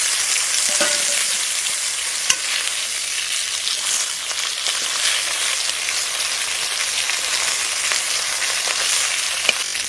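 Fish pieces fried in oil with black cumin and green chilli, sizzling loudly and steadily for the whole stretch, with occasional scraping clicks as they are stirred; no talking.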